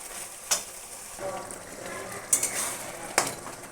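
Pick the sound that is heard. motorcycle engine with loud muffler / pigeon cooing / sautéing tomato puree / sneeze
sautéing tomato puree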